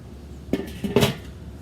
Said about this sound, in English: Let's put the lid back on.